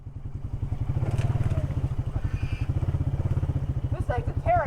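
A Can-Am XMR 700 four-wheeler engine idles and revs with a steady, rapid throbbing pulse close by, a rough mid-pitched chug running throughout while people talk over it.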